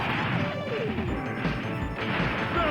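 Grenade explosions from enemy soldiers in the PlayStation version of the video game Metal Slug X: loud, continuous crashing blasts and clatter that stay close and dense for the whole stretch, mixed with game effects.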